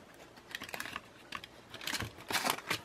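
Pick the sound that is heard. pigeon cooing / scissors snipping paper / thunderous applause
scissors snipping paper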